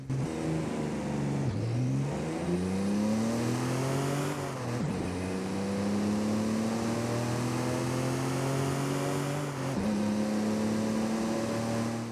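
A loud Toyota Tacoma TRD Pro pickup engine revs continuously in Forza Horizon 5, its pitch climbing and dropping back through several gear shifts, with no voices.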